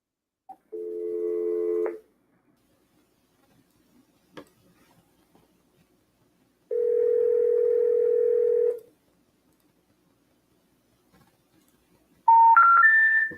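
Telephone call tones, two steady ringback tones with a silent gap between them, followed by a rising three-note intercept tone, clear and close, with no talk.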